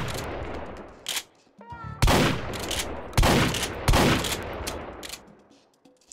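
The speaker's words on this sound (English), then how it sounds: "you can shoot off the gun like that" Several loud pump-gun blasts in the VR shooter Hot Dogs, Horseshoes & Hand Grenades, fired one after another at irregular spacing, each a sharp crack with a short decaying tail, plus some mechanical clicks between shots.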